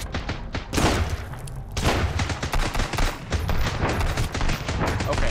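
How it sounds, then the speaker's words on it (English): Rapid, loud shotgun blasts crash out in dense bursts during combat in the survival video game Sunkenland, the shots overlapping almost continuously with brief gaps, with little talk over them. "Shotguns are so OP."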